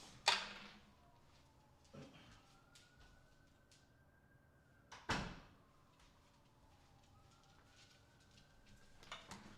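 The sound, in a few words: closet door being closed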